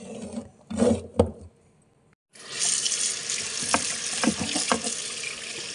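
Running water splashes steadily from a tap, rinsing pork for brown rice porridge, for several seconds after a brief burst of clatter and a pause.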